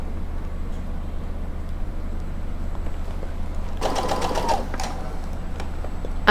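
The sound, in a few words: sewing machine sewing a patch pocket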